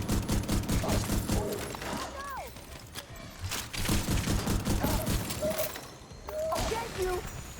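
Turret gunfire in a video game, rapid bursts of automatic shots with short pauses between them, loud and close, with voices speaking over the action.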